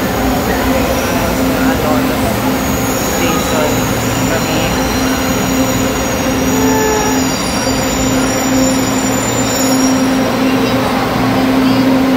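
A steady, loud rumble of a Manila LRT light rail train in motion, with high metallic wheel squeal drifting over the continuous roar, heard from inside the car.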